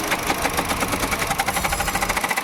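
Radiator fan on a car with the engine idling, running steadily with a continuous whirring, rattly buzz and rapid pulsing vibration, close and fairly loud, no talking.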